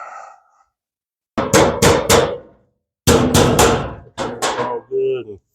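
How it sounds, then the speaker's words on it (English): Hammer tapping a flat metal piece on a first-generation Chevy Nova body, two clusters of sharp ringing strikes, close and loud, with a brief pause between bursts. "I'm gonna tap that down with a hammer"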